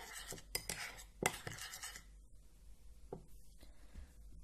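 A spoon clinks and scrapes against a bowl while homemade foot-whitening cream is mixed with Vaseline, with quick close taps for about two seconds before it falls nearly quiet with a few soft knocks.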